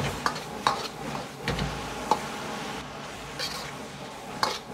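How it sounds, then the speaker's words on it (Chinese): Oyster mushrooms stir-fry in a wok, a steady sizzle under repeated sharp metallic scrapes and tosses of the spatula every second or so, close and moderately loud. "继续翻炒均匀，化开调料"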